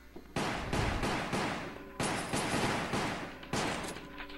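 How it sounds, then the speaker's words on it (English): Shotgun blasts in Resident Evil Umbrella Chronicles, five loud, evenly spaced booming shots with short decaying tails, up close and without talk. "That's a shotgun."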